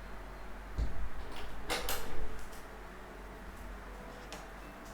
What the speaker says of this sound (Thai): ขอปิดประตู หลังบ้านหน่อย